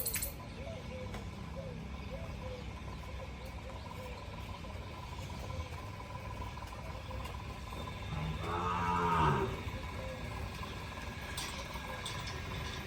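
On a farm, a buffalo gives one drawn-out, fairly close low lasting about a second, rising out of quiet background with faint insect chirps and a few soft rustles.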